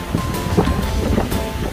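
Sea waves wash onto the beach in front of resort bungalows in Rayong, Thailand, a continuous rushing surf mixed with gusty wind buffeting the microphone, with no talking.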